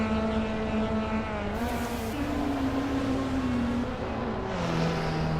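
A 1978 Porsche 935 race car engine in a racing game drones loud and steady with a sustained tone, shifting pitch as it changes gear, heard alone without talk.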